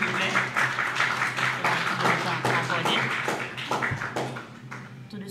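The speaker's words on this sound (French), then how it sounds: "On l'applaudit, s'il vous plaît." An audience at a Haitian candidate contest claps for a contestant, a moderate, steady patter of many hands with some voices mixed in, easing off toward the end.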